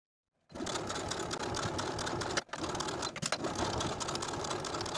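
A sewing machine stitches the seam of a handmade Valentine's Day dress, running in a steady continuous whir after a brief silent start, with a short pause midway before it resumes.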